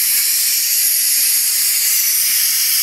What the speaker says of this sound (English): You do just only a quick pressure release. So it's going to steam out a lot more